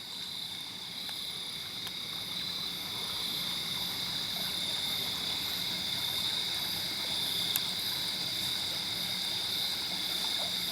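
At night, Frog Creek gives a soft, steady flowing murmur under a constant shrill chorus of insects, with no voices.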